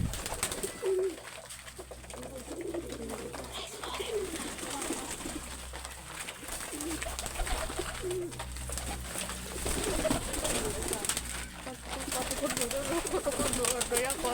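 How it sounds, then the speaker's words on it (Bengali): Pet pigeons at a home pigeon loft coo softly and repeatedly, low and continuous beneath steady background noise and a person talking over the birds. "দেখেন আপনারা কি সুন্দর কবুতর।"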